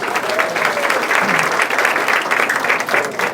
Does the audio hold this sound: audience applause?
yes